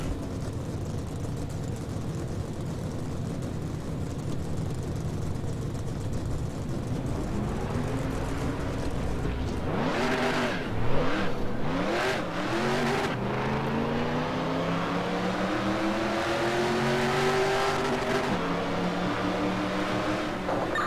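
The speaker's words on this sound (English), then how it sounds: "Drivers, start your engine." Race car engines in NASCAR Racing 2003 roar in a dense pack, a low steady drone that swells into several rising revs and gear-change sweeps partway through, staying loud and close throughout with no one talking.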